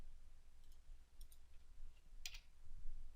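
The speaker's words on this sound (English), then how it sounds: "We click copy" Faint computer mouse clicks, a few soft double clicks spaced apart and one sharper pair, over quiet low background hum.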